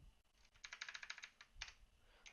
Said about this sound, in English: So if we just type each one,